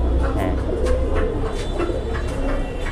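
Pigeons in a loft at Tongi coo in a steady, close chorus of soft repeated calls over a constant background hum, with no talk.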